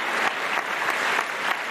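A studio audience at a televised Ramzan Islamic quiz show applauds in a dense, continuous burst of clapping, steady and fairly loud with no talk over it.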